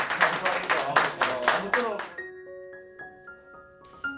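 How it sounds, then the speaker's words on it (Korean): A group at a Busan small-business owners' meeting claps together in several strong, even beats for about two seconds, then falls quiet as a few clear chime-like tones ring out. "우선 박수 한번 드릴게요."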